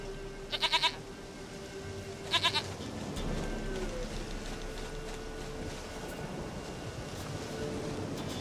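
Two short, bright goat bleats sound in The Witcher 3: Wild Hunt, close together early on, over a steady low outdoor ambience that carries on afterwards.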